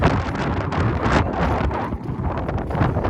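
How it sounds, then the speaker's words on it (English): Steady, roaring wind buffets the microphone outdoors on a cold day at an auction in Long Prairie, Minnesota, a continuous broadband rush that swells and dips slightly without any talking. "It's cold and windy today."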